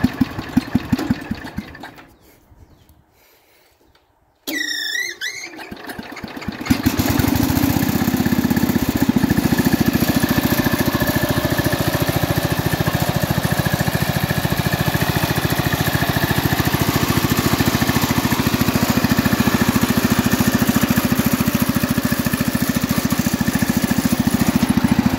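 Engine of a 1967 Jacobsen Chief 800 garden tractor, which sputters after a quiet start and then settles into a steady, close, loud idle that runs to the end.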